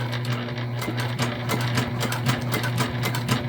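A Juki sewing machine stitches vinyl for a structured bag, its motor running steadily with a fast, even needle rhythm throughout, close and moderately loud, with no talking.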